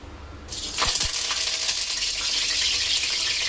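Curry leaves dropped into hot oil, a sharp crackle and splash followed by a loud, steady sizzle that continues to the end.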